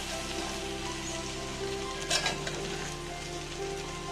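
Soaked sago pearls being stirred in a pan for sabudana khichdi, a steady close sizzle with soft scraping and stirring, rising briefly in the middle; no talk.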